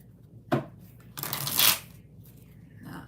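Tarot cards being shuffled in two bursts, a short riffle followed by a longer, louder shuffle, then quiet with faint room noise.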